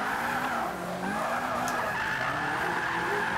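An MX5 Cup car drifts in Forza 5 with a sustained, loud tire squeal over a revving engine whose pitch rises and dips as the slide continues without a break.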